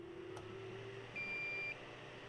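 A laser engraver's control box gives a short electronic beep when started, a single clear tone lasting about half a second over a quiet room hum.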